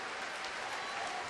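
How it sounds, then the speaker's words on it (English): A large crowd at the BlizzCon 2011 StarCraft 2 grand final esports event applauding and cheering, a dense continuous roar of clapping and shouting at a distance. "The crowd is going nuts."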